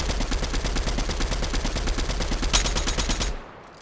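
Rapid automatic gunfire in Fortnite as a weapon's whole magazine is emptied, a dense, steady burst of loud shots that ends suddenly, followed by a brief sharp click near the end.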